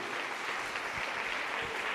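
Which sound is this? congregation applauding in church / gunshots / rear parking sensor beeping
congregation applauding in church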